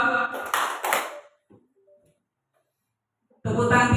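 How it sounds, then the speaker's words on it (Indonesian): A seated audience at an Indonesian education briefing claps in unison twice, two quick close bursts, then falls quiet before another loud wave of sound returns. "Tepuk tangan 2."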